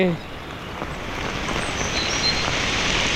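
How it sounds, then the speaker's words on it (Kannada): Monsoon rain falls steadily on the trek toward Dudhsagar Waterfalls, a continuous broadband hiss that holds at an even loudness throughout the outdoor scene. "ಆರಾಮ ಮಳೆ ಹೊಡಿತೈತೆ ಕಣ್ರಿ."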